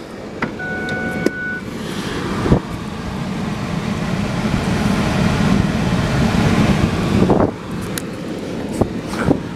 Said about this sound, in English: Sometimes this takes a minute. Compressor's got to do its thing.